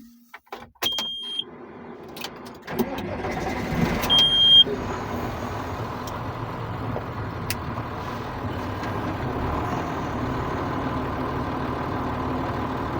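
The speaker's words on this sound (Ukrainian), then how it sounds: "По традиції заводимо вакуум, прообертаємо колесо і вперед." The vacuum system of a DKS 3939 seeder starting on a John Deere 6610 tractor, a few clicks and knocks, then a steady rising whir and engine drone that holds to the end.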